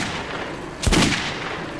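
A single pistol shot in the post-apocalyptic shooter Metro 2033 Redux, one sharp loud crack with a brief echoing tail over a low background hum.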